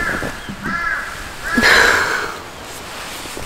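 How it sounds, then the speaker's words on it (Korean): Crows caw outdoors at a pine-forest campsite in the early morning, several separate harsh calls spread over a few seconds at moderate distance, with faint ambient noise between them. "아침에 새소리 엄청 좋았는데 지금 까마귀."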